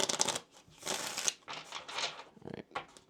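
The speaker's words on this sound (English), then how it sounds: "I need one more shuffle for you" Tarot cards are shuffled in close, crisp bursts of riffling, several rustling runs broken by short pauses, with a voice heard now and then between them.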